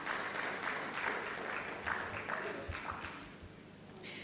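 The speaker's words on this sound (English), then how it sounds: "please, let's give a round of applause to our MC" Conference audience in Kampala applauding for the MC: soft, distant clapping spread across the hall, steady and fairly faint, without talk over it.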